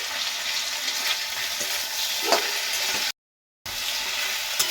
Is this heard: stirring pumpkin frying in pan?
yes